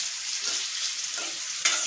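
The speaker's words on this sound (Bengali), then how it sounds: "সেই জন্য আলু ভেজে দেব।" Potatoes frying in oil in a wok, a loud continuous hiss and sizzle close by, with a sharp clink of a utensil near the end.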